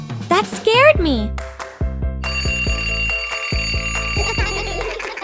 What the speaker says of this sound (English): It's just a clock, but it's really loud.